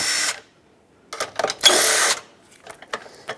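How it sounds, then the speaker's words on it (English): Ratcheting deep 10mm socket loosening battery hold-down nuts on a 2012-2017 Honda Accord, with a burst of quick clicking, a pause, then a longer sustained ratchet run and scattered clicks and taps, close up. "Now use a deep 10mm socket and remove the two mounting nuts holding the J-hooks on"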